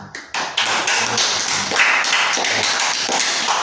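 A classroom of students claps for a classmate, a dense burst of many hands starting abruptly and continuing steadily at close range, loud and unbroken with no speech over it.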